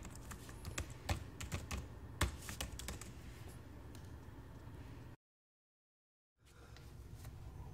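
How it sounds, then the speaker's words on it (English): Keys clatter steadily on an ASUS N550JK laptop keyboard, close and fairly quiet, with a few sharper taps; the sound cuts to silence for about a second before the typing resumes. "Normal typing should be a very comfortable experience for you."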